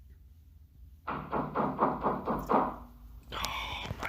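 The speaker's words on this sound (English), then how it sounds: "Just moments after the knocking on the door, he hears this and decides he's had enough." Several evenly spaced knocks on a door land in a quick run of about seven raps, fairly close and loud, followed by a sharper higher noise; a person briefly exclaims just before the knocking starts.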